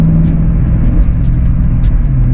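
A 2001 Ford Mustang Bullitt's engine rumbling from inside the car, a loud steady low drone with slight surging, continuous and without speech.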